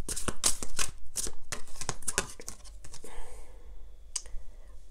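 Tarot cards are shuffled by hand in a rapid run of crisp riffling clicks and flutters lasting about three seconds, followed by a quieter pause and then one last sharp card snap close to the listener.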